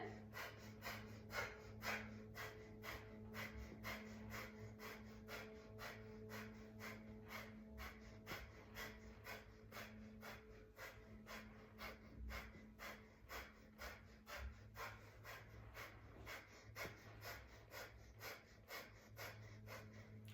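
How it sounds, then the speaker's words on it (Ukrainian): Rhythmic breath of fire during kriya yoga: quick, even, forceful panting breaths repeat steadily and closely for the whole stretch, quiet and near, with no talk. "Якщо дихання вогню, то воно ритмічне."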